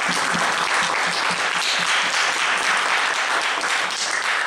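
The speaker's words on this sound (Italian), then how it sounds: "Un applauso." An audience at a talk on scientific and cultural outreach in schools applauds, loud sustained clapping from many hands throughout.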